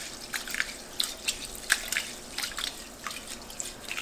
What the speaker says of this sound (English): Just wash it about 2 or 3 times to get off the starch.